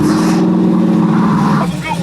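A 1967 Chevrolet Camaro drives in traffic, its engine giving a steady, loud, close drone with road noise throughout and a slight shift in pitch near the end.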